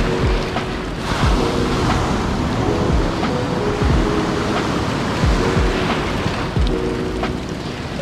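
Ocean surf breaks on the shore at a La Jolla boat launch beach, with a steady roar of rushing water and periodic heavier wave crashes rolling through, close and continuous.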